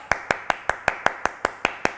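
Hand claps from people in a Thai law-of-attraction coaching session, about ten sharp evenly spaced claps in steady rhythm, close and fairly loud, like a small group clapping together on cue.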